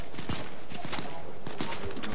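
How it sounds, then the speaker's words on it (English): Gunfire in Fortnite during a duos match: a quick run of sharp, crackling shots in two clusters over about two seconds, loud and close. "Somebody's shooting at us."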